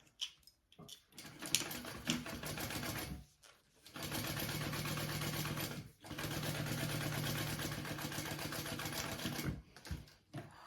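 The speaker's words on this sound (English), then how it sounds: "you're going to top stitch along the bottom panel" A sewing machine top stitches along the bottom fabric panel of a small roly poly bag, running in three steady bursts of fast, even needle chatter separated by short pauses.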